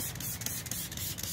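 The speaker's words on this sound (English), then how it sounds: "I'm going to respray it again on the tire" Super Clean cleaner spritzed onto a car tire, a steady hissy mist with a few short pulses of spray, close and moderately loud, with no talking.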